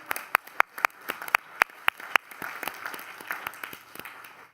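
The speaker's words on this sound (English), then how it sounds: "we could all give a round of applause for our librarians" A short round of applause from a small group at a city council meeting, several sharp claps standing out before fading into scattered clapping.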